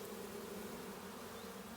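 Honeybees at the hive during a nectar flow: a continuous, even buzz from many insects, faint and steady throughout, with no voices.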